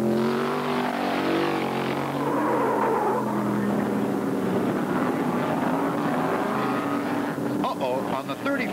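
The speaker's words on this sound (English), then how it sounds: "Bobby Allison streaks by in his Camaro to take over the lead." A Camaro race car roars past on the Daytona road course during a 1974 NASCAR race, a loud, continuous engine drone rising and shifting in pitch. Someone narrates over the engine the whole time.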